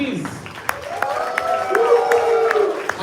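Sparse, scattered hand claps ring out at a hackathon award ceremony as a winning team is called up. The claps sound beneath a prominent voice or tonal background.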